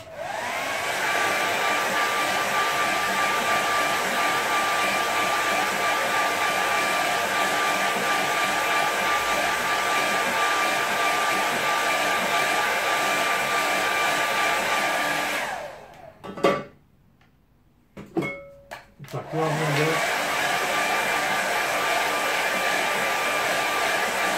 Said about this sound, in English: let's just give that a very quick dry